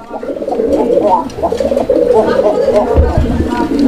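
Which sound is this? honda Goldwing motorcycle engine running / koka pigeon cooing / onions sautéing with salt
koka pigeon cooing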